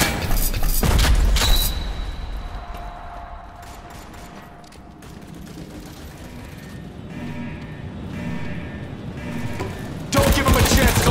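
Grenade blast and gunfire in a World War video game: a heavy boom and burst of shots up front, a rumbling lull with scattered mechanical clatter, then another loud burst at the end.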